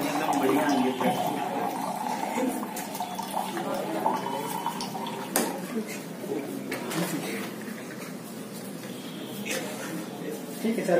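Water runs steadily through a homemade charcoal water filter, a continuous splashing trickle with people talking over it.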